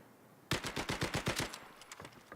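A grease gun fires in a Blitzkrieg match on the Coastal map: a sharp burst of about nine rapid, evenly spaced shots, followed by a few fainter distant pops.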